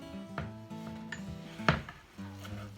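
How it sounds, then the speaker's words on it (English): A knife chops cooked chicken for chicken noodle soup on a board, a few scattered sharp taps and scrapes, close and fairly quiet, against a faint background hum. "I just kind of like chopping it up."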